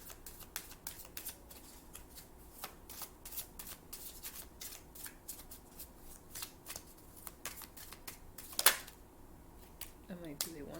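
Romance Angels oracle cards being shuffled produce a steady run of quick, soft riffling flicks close by, continuing for several seconds with a few sharper snaps.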